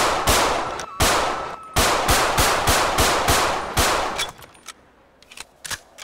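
Replaced Glock 20 pistol gunfire in GTA 5: loud, sharp shots fired in rapid bursts, a quick string of cracks, then a few scattered shots trailing off into quiet.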